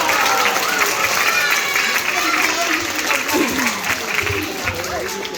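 Loud crowd applause for a volunteer at a live science show, a dense, continuous roar of clapping with voices mixed in and some cheering throughout.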